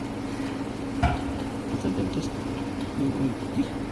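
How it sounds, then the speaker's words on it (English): Jambalaya with beans and a dash of sriracha simmers in a pan, giving a steady low bubbling hiss with a faint hum and occasional soft clinks from the pot. "we'll just let that simmer a moment"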